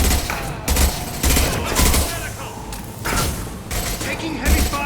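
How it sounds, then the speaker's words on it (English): Gunfire in Mass Effect Legendary Edition, in a prison battle: loud, close bursts of shots and heavy impacts come in repeated waves, with game voices speaking through the fighting. "Taking heavy fire!"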